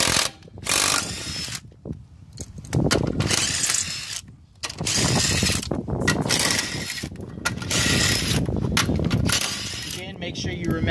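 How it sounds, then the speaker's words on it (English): An impact wrench with a 21 mm socket rattles off lug nuts on a 2003 Toyota 4Runner during a brake job, firing in repeated loud, choppy bursts separated by short pauses, with some talk. "I've got the 21 lug wrench on the impact so I can take them off quick"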